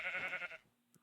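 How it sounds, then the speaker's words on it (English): A horse in a video game gives a short, high, wavering whinny, close and fairly loud, that cuts off abruptly and is followed by a brief faint click. "I hear a horse, but where is it?"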